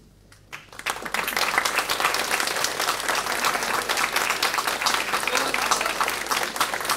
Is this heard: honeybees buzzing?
no